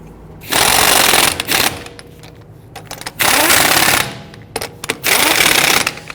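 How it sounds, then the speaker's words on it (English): Pneumatic impact wrench snugging lug nuts onto a Ford Taurus wheel, three loud sustained rattling bursts separated by quieter gaps, close up with no talking. "Now we're going to go ahead and install all of our lug nuts by hand, and once we get them started, we'll go ahead and snug them down."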